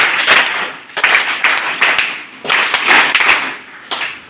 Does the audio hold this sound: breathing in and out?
no